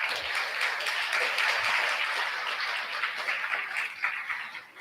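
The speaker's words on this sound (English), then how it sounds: "please help me give them a round of applause" Audience applause at a live education festival event, a steady, dense wash of clapping from a crowd that holds at an even level for several seconds with no voices over it.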